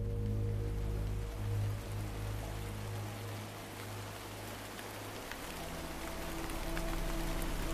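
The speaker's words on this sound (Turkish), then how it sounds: "Bu da kesin asit yağmurudur ha." Acid rain falls in the video game One Last Breath, an even, hissing downpour that holds steady throughout over a low droning hum, with no voices.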